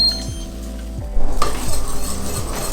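Cream mixture being poured into a saucepan and stirred, with a spoon scraping the pan in a few rhythmic strokes, followed by a soft bubbling sizzle that rises as the liquid hits the heat, close and moderately loud.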